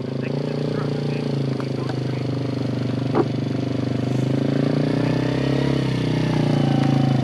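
A Polaris off-road vehicle's engine runs steadily nearby, a constant droning idle with a slight rise toward the end, and voices are heard over it.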